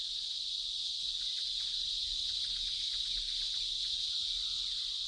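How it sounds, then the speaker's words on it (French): A loud, continuous buzzing drone of cicadas' mating song, steady and unbroken throughout, sounding close and filling the air. "c'est la cigale qui a le chant nuptial le plus bruyant"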